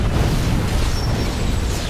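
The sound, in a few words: grenade explosion in Star Trek Online video game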